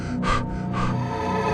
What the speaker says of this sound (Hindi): तेज सांसों की आवाज